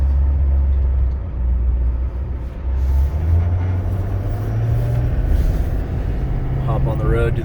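A 2011 AT200 bucket truck rumbles along with a deep, steady engine drone close by, and a person talks over the noise throughout.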